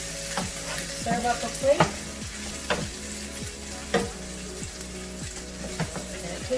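Perogies and sausage fry in a pan while a utensil stirs them, making repeated scraping strokes over a steady sizzle, with a brief spoken line partway through.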